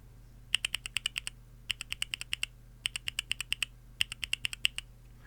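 Four quick bursts of mechanical keyboard key presses on FEKER Panda switches with keycaps on, each a run of about eight crisp, clacky keystrokes, close and clear with no talking.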